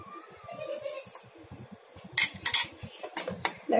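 A spoon clinks and scrapes against a cup in quick bursts, close by, following a stretch of soft background talk.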